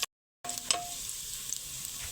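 Garlic frying in a pan until browned: a steady, soft sizzle starts after a short silence and carries on alone, with one faint clink early on.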